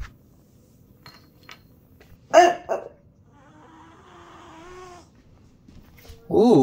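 A cat meows, with two short cries near the middle of the clip and a louder, sharper one at the end, separated by quiet stretches and a faint wavering tone.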